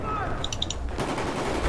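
Transport-mounted guns fire in a rapid burst in Battlefield 4's Siege of Shanghai map, sharp, close cracks in a brief cluster over low game rumble.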